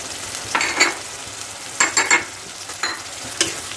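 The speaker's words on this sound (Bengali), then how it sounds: "এখন এটাকে আমরা ভালো করে নেড়ে চেড়ে কষাবো।" Chicken coated in ginger paste and salt is stirred and sautéed in a hot pan: a steady close sizzle broken by a few scraping bursts from the spoon, with no talking.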